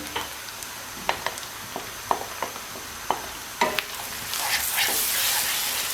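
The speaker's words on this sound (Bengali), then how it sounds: "এবার আমি সব মশলাগুলো একসাথে এর ভেতরে দিয়ে দেব" Spices added to softened onions in a pan for rohu fish with pineapple, a string of distinct close scraping stirs over a soft sizzle that swells into a steady hissing fry near the end.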